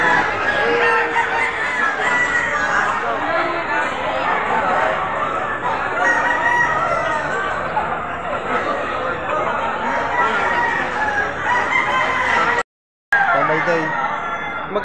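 Roosters crow repeatedly over steady clucking from a crowd of chickens at a poultry sale in Padre Garcia, Batangas, with people talking nearby throughout.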